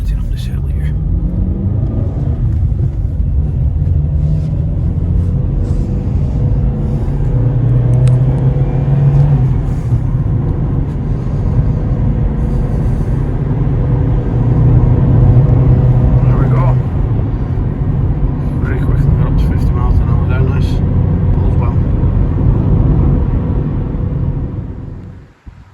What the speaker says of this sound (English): Now we're off to go and do some fast accelerating on this hill here.